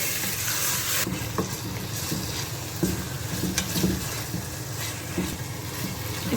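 Boneless chicken sizzles and fries in a pan while being stirred, a steady close hiss with scraping stir strokes and occasional louder pops, no voices.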